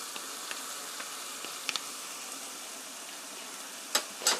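Spicy spaghetti sauce with ketchup and gochujang stir-frying at a camping setup, a faint steady sizzle with light tapping and a couple of louder scrapes toward the end.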